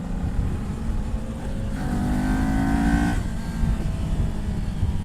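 A 2018 Kawasaki Ninja 400 is ridden, its engine note climbing briefly in pitch over steady rushing wind noise, close and moderately loud.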